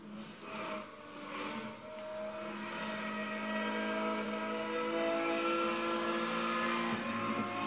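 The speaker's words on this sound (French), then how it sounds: "On sent bien le moteur" A steady engine drone with harmonic tones, smooth and continuous, rising slightly in loudness, like a racing car in Need for Speed: Hot Pursuit heard from inside.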